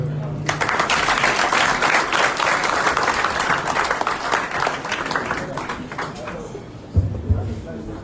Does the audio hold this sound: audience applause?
yes